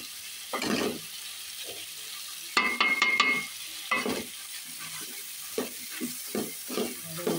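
Beef pieces frying in a pan in a dim kitchen, stirred by hand: scraping, clattering stirs in short bursts over a low sizzle, with a louder burst of clinks and splashes midway, close and alone without talk.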